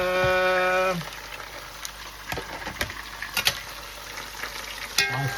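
Fresh and ground pepper frying in a hot pan, a continuous sizzle broken by scraping, clattering stirs, with a short rising tone at the start and again near the end.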